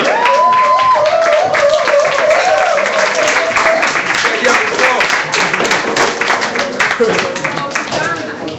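An audience at an evening event at Cabana in St. Louis applauds with dense, steady clapping for about eight seconds, mixed with voices and faint tonal sounds underneath.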